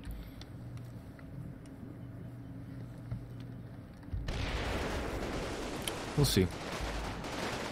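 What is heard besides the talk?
tank firing at AT gun in Combat Mission video game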